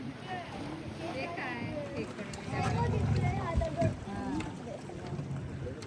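A small boat travelling into sea caves along the Konkan coast at Vengurla: engine and water noise with wind buffeting, heard beneath people talking excitedly throughout.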